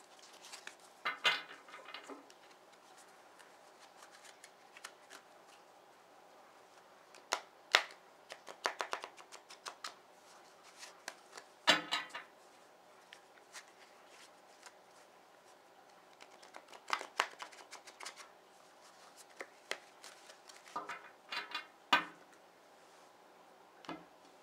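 Cards of a large Masonic Tarot deck being shuffled by hand, heard as quiet bursts of crisp riffling and flicking that come in several separate clusters, with short pauses between them and no talking.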